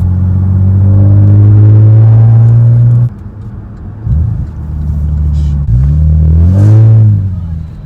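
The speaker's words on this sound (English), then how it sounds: "Now you can kind of hear the engine's running now. There you go. So that's my custom exhaust." A loud Porsche Panamera S E-Hybrid engine with a custom exhaust idles with a deep burbling note, revving briefly in a couple of short bursts near the end.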